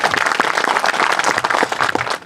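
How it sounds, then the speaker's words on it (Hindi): Enthusiastic applause from an audience at an agricultural crop show, welcoming a guest on stage; dense, steady clapping fills the whole stretch at close range before tapering slightly at the end. "राव लवांडे साहब का एक बार जोरदार तालियों से हम स्वागत करते हैं।"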